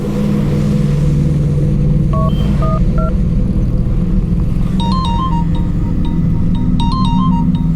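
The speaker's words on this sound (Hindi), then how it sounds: "अनु देखना किसका फोन है।" An electronic phone ringtone chirps in short repeated bursts over a steady, loud, low engine-like rumble.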